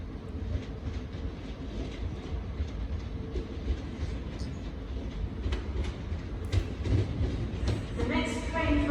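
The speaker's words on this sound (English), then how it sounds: "Arriving now is the 1718 Pennine Express service terminating in from Manchester Piccadilly." Pennine Express passenger train from Manchester Piccadilly pulling into Newcastle station, a steady loud rumble of wheels and carriages with clickety-clack over the rails and a brief squeal of braking near the end.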